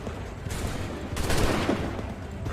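Musket volley in Assassin's Creed III, a dense ragged crackle of many shots overlapping into a loud sustained roar of gunfire that swells midway, with no voices.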